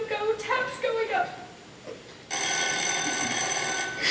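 A telephone bell rings as a stage sound effect during a spring school play, starting midway and sounding loud and continuous behind actors speaking on stage.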